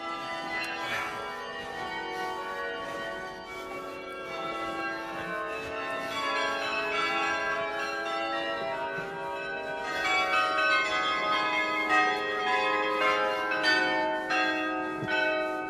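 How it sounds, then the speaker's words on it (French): Church bells ringing right beside the listener inside a bell tower, a dense, continuous wash of overlapping metallic tones that swell louder toward the end, with no talking. "on est carrément à côté des cloches"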